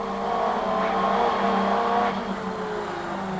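A Group A racing car from the late 1980s drives hard on a circuit, its engine holding a steady, loud, buzzing note that rises slightly and then eases. No one talks.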